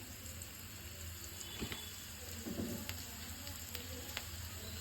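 Curry leaves, green chillies and onion fry in a pan, a quiet steady sizzle with a few faint clinks and stirring sounds over several seconds.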